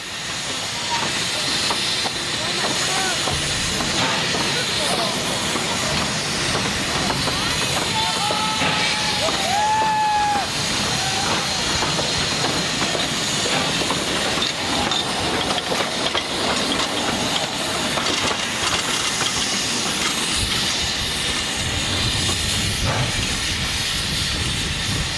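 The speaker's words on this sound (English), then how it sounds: "passes the visiting locomotives from Nevada" A 146-year-old steam locomotive chuffs and hisses as it rolls past on the Cumbres line, with steady clanking wheels and a few brief whistle-like squeals, loud and continuous throughout.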